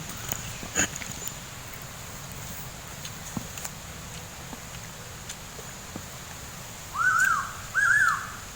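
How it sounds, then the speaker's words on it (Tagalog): A large bird gives two short, rising-and-falling calls near the end, clear against a quiet outdoor background in a field. "Ano yun? Ang laki naman ng ibon."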